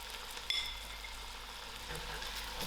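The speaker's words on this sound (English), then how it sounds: "I'll give this a nice mix and allow it about 5 minutes to fry before adding in my water" Vegetables with ginger, green chilies and salt fry for vegetable korma in a pan, giving a steady soft sizzle with a brief clink of stirring near the start.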